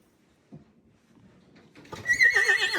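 A horse gives a single loud, close neigh with a wavering whinny near the end, following a brief soft thud and quiet rustling.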